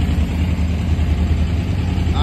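A KTM 950 motorcycle engine idles steadily and smoothly at close range, a continuous low throbbing rumble with no revving.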